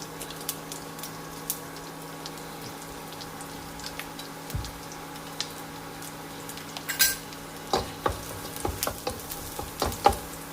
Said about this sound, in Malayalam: ചൂടായ നെയ്യിലേക്ക് ചെറിയ ജീരകം ചേർക്കാം കൂടെ തന്നെ അരിഞ്ഞു വെച്ച വെളുത്തുള്ളിയും ചേർക്കാം